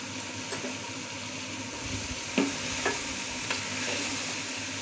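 Ridge gourd pieces are stirred with chili powder in a pan, a steady soft sizzle with a few scraping spoon strokes against the vessel, close and without talk.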